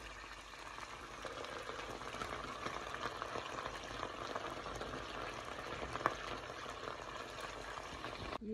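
Horse meat frying in hot rendered fat for kuyrdak, a steady broadband sizzle and crackle that holds evenly throughout at moderate, close range, with no speech.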